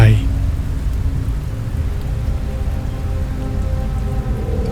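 Steady rain pours down in the horror video game Fears to Fathom, set at the Carson House, a dense continuous hiss with a low rumble beneath it, filling the whole stretch at even loudness.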